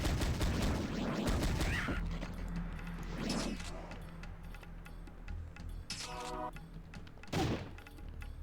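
Gunshots in the retro shooter PowerSlave Exhumed ring out as a few loud separate blasts spaced several seconds apart, with mechanical clunks and ambient game sound between them.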